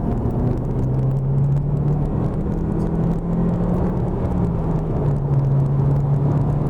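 An MG HS PHEV plug-in hybrid SUV is accelerating hard, giving a steady, loud engine drone with a smooth rising tone. Road rumble fills in underneath, and nobody talks over it.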